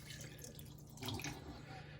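Vinegar poured over raw ribs in a sink, a soft running splash of liquid with a brief louder gush midway, close by and fairly quiet.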